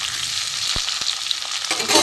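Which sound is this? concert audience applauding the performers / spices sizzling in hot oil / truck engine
spices sizzling in hot oil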